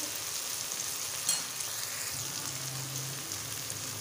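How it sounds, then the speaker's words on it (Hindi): Tomatoes and spices frying in a pan while stuffed karela is being made, a steady soft sizzle with a faint crackle, continuous and fairly quiet, with no talking. "टमाटर हमारे थोड़े से फ्राई हो गए।"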